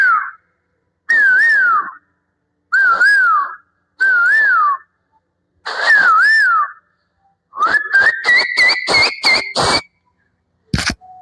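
A man whistles an imitation of a cuckoo's song: several clear, warbling phrases with pauses between them, then a quick run of rapid trilled notes, loud and close, with no talk.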